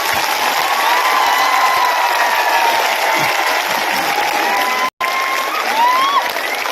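A large crowd at an outdoor victory celebration applauds and cheers in dense, continuous clapping, with a brief cut near the end.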